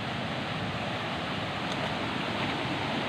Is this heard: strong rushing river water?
yes